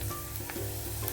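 Onion and garlic fry in hot oil for a spicy tomato chutney, giving a steady, close, dense sizzle that runs unbroken through the short moment with no voices.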